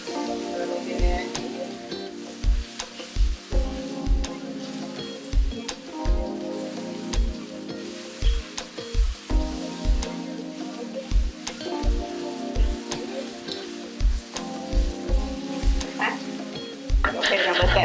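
Ground meat and onions brown in a pan, sizzling continuously beneath a steady rhythm of low thumps and scrapes from stirring, close and fairly loud over about eighteen seconds.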